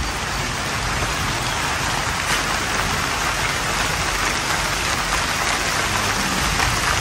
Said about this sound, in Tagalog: Ay, umuulan na.